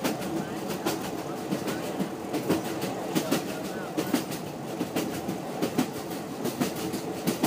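Train rolling steadily along the rails with a regular clickety-clack of wheels over joints, heard from inside as a continuous rumble with repeated rhythmic knocks.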